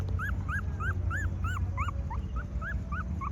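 Several puppies whimper and squeak in a steady stream of high, rising-falling cries, close by, over a low rumbling background.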